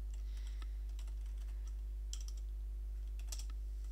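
Computer keyboard typing Minecraft admin commands, quiet scattered key clicks with a couple of louder clustered presses over a steady low hum, no talking.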